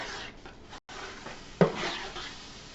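A spoon stirs meatball sauce in a pot, a short run of soft scraping and clinking with one sharper knock against the pan partway through, close and alone.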